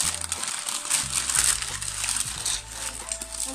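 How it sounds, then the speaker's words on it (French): Parcel packaging being torn open and handled, giving close crinkling, crushing rustles in uneven bursts over a few seconds, with no speech over them. "Vous allez comprendre quand je vais donc ouvrir le colis."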